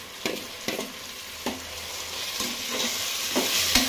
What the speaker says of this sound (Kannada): ಟೊಮೆಟೊನು ಚೆನ್ನಾಗಿ ಪೇಸ್ಟ್ ಆಗೋ ರೀತಿ ಫ್ರೈ ಆಗಬೇಕು